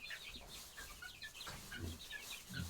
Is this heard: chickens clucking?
yes